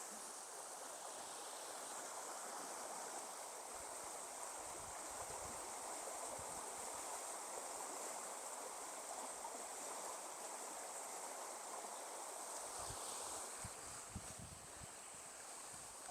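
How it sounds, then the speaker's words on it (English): A river in Llandrillo, Wales rushes with a fair stream, a steady broadband wash of flowing water that holds constant and fairly loud throughout, with no voices over it. "So it's definitely got a fair stream on it."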